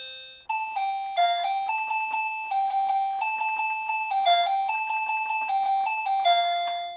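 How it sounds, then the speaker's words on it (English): An inexpensive electronic keyboard set to a mandolin voice plays a quick melody of bright, plucked-bell-like notes in steady rhythm, close and clean with no talking. "There you go, you can play that on mandolin."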